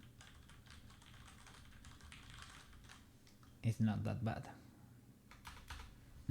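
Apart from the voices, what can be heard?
typing on a mechanical keyboard with brown switches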